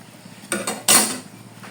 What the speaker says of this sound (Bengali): এবার ঢাকনা দিয়ে ঢেকে দিব